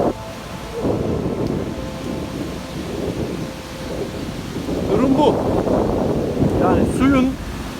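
Swollen floodwater surges over a waterfall that has risen so high it forms only a smooth ramp. The roar is loud, continuous and rushing, with a voice talking over it.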